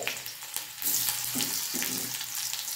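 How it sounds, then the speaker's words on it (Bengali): Finely chopped onion frying in hot oil alongside vegetables for a mixed vegetable dish, giving a steady close hiss that swells louder partway through, with no voices. "আমি অল্প করে পেঁয়াজ, একটা কুচি কুচি করে পেঁয়াজ দিয়ে দিচ্ছি"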